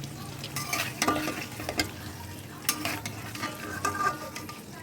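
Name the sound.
boiled eggs being lightly fried in a pan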